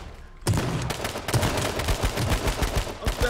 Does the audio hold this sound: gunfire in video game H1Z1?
yes